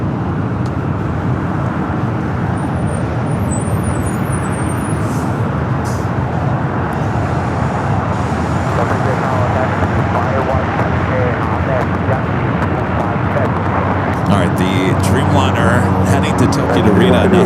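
A steady, broad engine roar from an Air Premia airliner on its takeoff roll down runway 25 right at Los Angeles International Airport, heard from a distance as a continuous wash of noise that swells slightly near the end.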